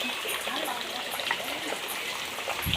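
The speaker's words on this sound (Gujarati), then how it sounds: "મિત્રો વરસાદ આવે છે ભાંગા જેવો વરસાદ" Heavy rain pours down steadily as a dense, continuous hiss of drops splashing on surfaces, loud and close, with no pauses throughout.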